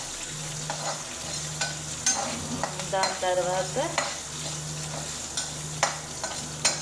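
Green chillies fry in a tempering in a pan, a soft sizzle broken by scraping stirs and clinks of a spatula, with a brief spoken phrase partway through.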